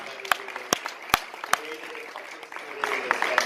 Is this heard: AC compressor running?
no